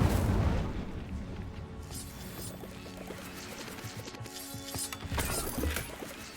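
Incendio fire spells cast in Hogwarts Legacy, dense crackling, thudding fiery bursts under busy game sound, fairly quiet with a few stronger hits near the start and end.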